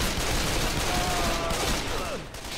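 Sustained gunfire in Left 4 Dead 2 runs through the whole stretch as a dense, steady crackle of shots, with voices faintly under it.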